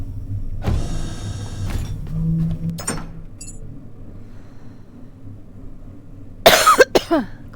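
A person coughs near the microphone, a sharp burst of a few rapid coughs late in the clip, preceded by quieter mechanical whirring and thumps against a low background hum.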